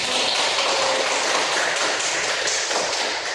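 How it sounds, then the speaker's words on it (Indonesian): Dense applause from a class of junior high students after a wudhu (ablution) practice lesson, a steady broadband clatter of many hands clapping close by, sustained for the whole stretch without talk. "Kita beri aplaus dulu untuk"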